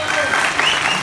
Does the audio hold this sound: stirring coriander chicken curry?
no